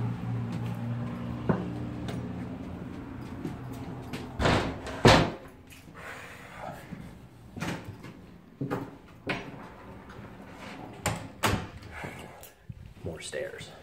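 A second front door of a Pittsburgh house opens and shuts with a few loud clunks and a slam-like thud, then scattered softer knocks, while a person talks throughout.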